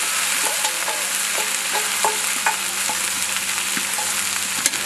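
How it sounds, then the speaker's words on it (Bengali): Fish added to hot oil with fried cumin, a steady close sizzle and crackle of frying with repeated light stirring taps throughout. "জিরা ভাজা হয়ে গেছে, এবার দিয়ে দিচ্ছি মাছ।"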